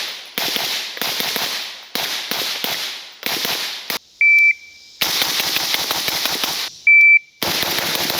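Bursts of rifle fire from a 5.56 SCAR, loud rapid crackling volleys separated by short silences, with two brief steady electronic beeps between strings of shots.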